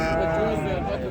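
At a sheep market in Ganja, a sheep gives a sustained bleat at close range, layered with the murmur of market noise and voices.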